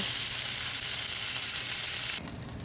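Seasoned, flour-dredged meat chunks browning in oil for burros, a loud steady close sizzle that cuts off sharply near the end, followed by quieter clatter.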